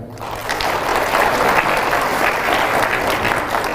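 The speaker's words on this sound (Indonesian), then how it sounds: "Mana tepuk tangannya?" A crowd at a religious lecture breaks into applause, a thick, continuous clapping that swells quickly after a brief quiet start and holds steady to the end, loud and close, with no speech heard.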